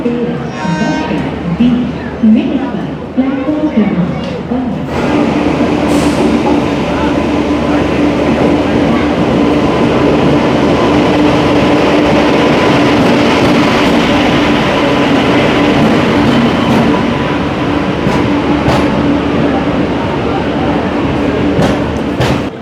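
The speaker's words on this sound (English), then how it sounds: "our train is arriving at New Delhi railway station" The Kerala Sampark Kranti Express rumbles steadily into New Delhi railway station, a loud continuous roar of rolling carriages with faint clicks and squeals, preceded by a few seconds of quieter ambience.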